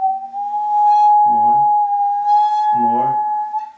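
A musical saw holds a steady, slightly wavering bowed note with too much upper bend, so the tone sounds thin and lacks resonance, while a voice speaks briefly over it twice.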